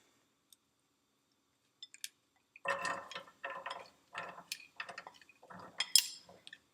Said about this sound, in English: I just kind of move this stuff around the pan while it's heating up.